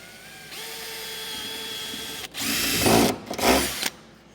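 Power drill boring into a part of an auction-bought car, starting after a quiet half second with a steady whine, then louder, uneven bursts as the bit bites in, ending abruptly near four seconds.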